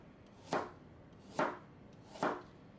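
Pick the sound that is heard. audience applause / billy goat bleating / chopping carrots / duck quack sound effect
chopping carrots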